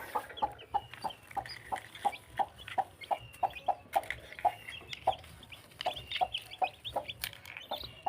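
A black hen clucks in a steady, regular rhythm of short low calls, fairly close, with faint peeps of newly hatched chicks and rustling behind.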